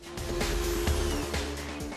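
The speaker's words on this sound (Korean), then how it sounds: "조금 덜 거친 걸로 순차적으로 샌딩을 해서 광을 내는 거예요" Power sanding of a kitchen island surface, moving from coarse to finer sandpaper: a close, continuous motor whine with a grinding rasp, steady throughout.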